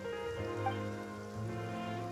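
Rain falling in the video game Genshin Impact, a soft, steady patter on surfaces that sits beneath sustained tonal game music throughout.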